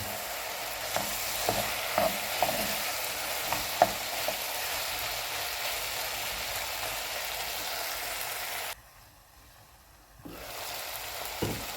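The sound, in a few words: mushrooms and chicken frying in pan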